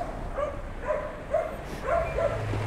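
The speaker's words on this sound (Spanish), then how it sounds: "Los perritos ladran" Dogs bark in a string of short, fairly distant yaps along a roadside next to a bike path, faint against steady outdoor background noise.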